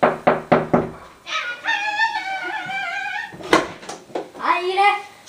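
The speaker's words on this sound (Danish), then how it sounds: "og nu vil jeg banke på." Three sharp knocks on the door of a girl's home, close and loud, followed by a cat-like meowing tone and a voice answering.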